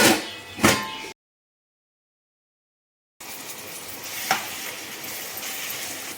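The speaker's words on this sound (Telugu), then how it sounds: "మధ్యలో మూత ఓపెన్ చేసి గ్రేవీ అంతా ఇలా కలుపుకోవాలి" Mutton gravy with tomatoes is stirred in a pan with a low sizzle and scraping, broken by a stretch of dead silence before the stirring and bubbling resume.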